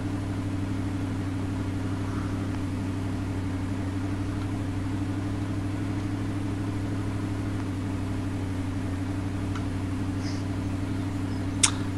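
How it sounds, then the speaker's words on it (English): A tractor engine in Farming Simulator 2013 idles steadily, a constant low hum with a faint tick near the end and no voices. "So, engine off to save fuel."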